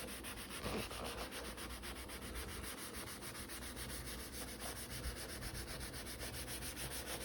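Abrasive pad rubbed with steady pressure over a stain on a quartz countertop, giving a faint, continuous rapid scrubbing that runs without pause and without talk.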